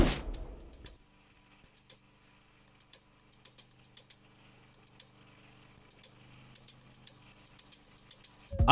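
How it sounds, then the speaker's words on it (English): A programmed shaker loop from a beat remake made in FL Studio, with soft, crisp ticks in an even rhythm, quiet and isolated with no other instruments. "And then we also have another shaker loop."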